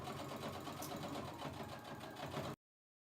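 A sewing machine stitches a T-shirt dress pocket with a steady, rapid whirring run for about two and a half seconds before stopping abruptly, close and fairly quiet.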